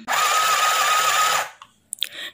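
A mini sewing machine stitches in one steady, close whirring run for about a second and a half, then stops, followed by a few light clicks and handling sounds.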